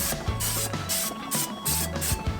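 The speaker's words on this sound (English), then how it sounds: "we're going to give it a little spray" Several short hissing bursts from a can of high-temperature grilling spray onto a grill in quick succession, close by, with light clatter and scraping between them.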